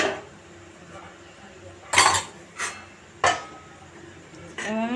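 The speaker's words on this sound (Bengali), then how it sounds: "জল দিয়ে একটু নাড়াচাড়া করবো।" Greens with added water get stirred in a pan, with a few sharp metallic scrapes and clanks of a utensil against the pan over a quiet background, and a voice starts at the end.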